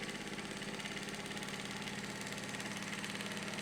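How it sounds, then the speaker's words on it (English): A sewing machine fitted with a heavy-duty needle stitches a project bag with a continuous, even, rhythmic whir. It is fairly faint and has no pauses. "you have just nice, tight stitches sewing right on that line"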